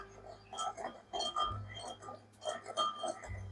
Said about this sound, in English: we're going to give it a nice little stir with a spoon